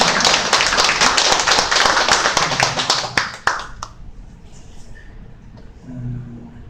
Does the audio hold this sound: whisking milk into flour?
no